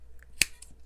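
A single sharp snip cuts off material while a Christmas wreath is being assembled, one brief crisp click in an otherwise quiet moment.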